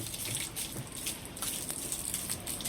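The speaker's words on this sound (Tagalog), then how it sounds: "Kasi nagpupuno ng tubig." Water rushing into a water softener tank during a backwash cycle, a steady, soft hiss of flowing water with faint splashy flickers and no voices.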